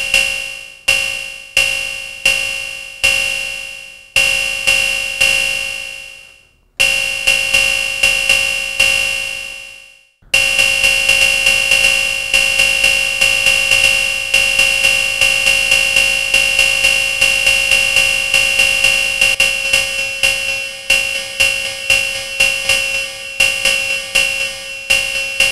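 A synthesized cymbal patch on a DSI Pro 2 synthesizer, a bright, noisy metallic wash struck in a series of quick decaying hits, then sustained as a longer shimmering tone with repeated accents, loud and alone.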